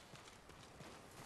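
Horse hooves clip-clop in a quick, steady rhythm over a dense, noisy soundscape from the video game Ghost of Tsushima.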